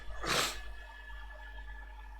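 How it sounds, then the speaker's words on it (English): A single short sneeze bursts out close by, followed by quiet background hum. "I sneeze like I have allergies"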